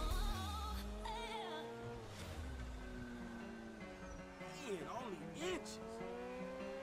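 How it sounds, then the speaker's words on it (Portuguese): A Ferrari engine in Grand Theft Auto V revs and holds steady, with pitch sweeping up and down through gear changes, loud and close, under excited talk. "Caraca, isso é uma Ferrari."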